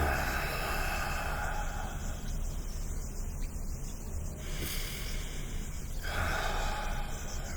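Two slow, deep breaths, each a long airy inhale and exhale close to the ear, quiet and soft against a faint hiss, with no talking.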